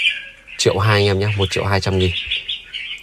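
A red-whiskered bulbul sings in a steady run of high chirps and trills that carries on beneath and around someone talking loudly nearby.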